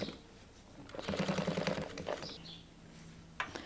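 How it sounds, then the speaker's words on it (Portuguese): Sewing machine running a seam on a fabric reading cushion, a steady rapid stitching whir for about a second with handling rustles and small clicks around it, close and moderately loud. "Agora eu vou rebater uma costura."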